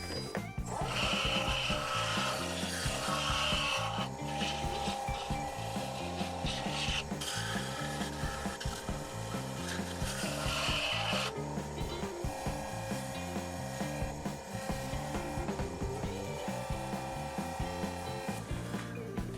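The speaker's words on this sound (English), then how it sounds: "I'm going to take some of this beeswax. Just rub it on here at high speed." A block of beeswax rubs against a small wooden hollow form spinning fast on a lathe, producing a loud continuous rasping friction whine with shifting squeals and pressure changes, a voice faintly present at times.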